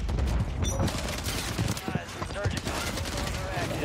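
Rapid bursts of automatic gunfire and scattered shots in a military shooter video game, crackling continuously up close with faint talk mixed in.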